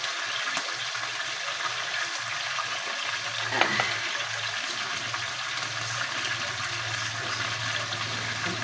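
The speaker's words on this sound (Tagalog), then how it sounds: "Saka tayo magigisa ng bawang sibuyas." Garlic and onion sauté in a pan for chicken adobo, giving a steady hiss and crackle of sizzling oil throughout, with a brief louder scrape or stir near the middle.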